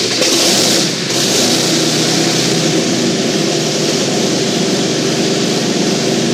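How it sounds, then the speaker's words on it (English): A Packard V-12 marine PT boat engine runs inside a garage, giving a loud, steady, close roar that holds without a break throughout. "Here is a bit of video which features a Packard V-12 marine engine running in a garage"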